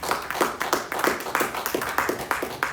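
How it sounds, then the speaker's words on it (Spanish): A church congregation at a Christian sermon claps in a brisk, steady rhythm, a modest group of hands heard close and moderately loud. "Dele un aplauso a Cristo."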